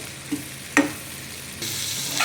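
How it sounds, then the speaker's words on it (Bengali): Boiled elephant foot yam pieces frying in oil, a quiet, soft sizzle with a couple of brief clicks and clatters, heard up close. "এবার ওই তেলের মধ্যে আমি ওলগুলোকে ভেজে নেবো"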